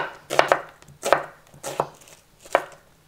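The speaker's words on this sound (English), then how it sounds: "Let's slice this." A knife slices through food on a cutting board while sweet rice with chicken is prepared, four crisp, evenly spaced chops landing about two-thirds of a second apart, close and clear with no talk.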